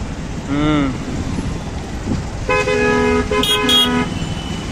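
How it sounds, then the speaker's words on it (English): Car horns honk in a jammed city street: a short horn blast early, then several overlapping toots later, over a steady background rumble of traffic, with no one talking. "Slowly now, traffic jam."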